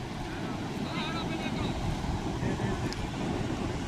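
Sea waves roar steadily, with wind rushing across the microphone and no clear breaks in the wash.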